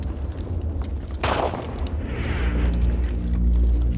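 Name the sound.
battlefield explosions in WW1 drama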